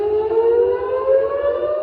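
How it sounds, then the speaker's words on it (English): Warning sirens sound over Tel Aviv in one steady, loud wail that rises slowly in pitch, with a faint rumble beneath and no voices. "Warning sirens in Tel Aviv today."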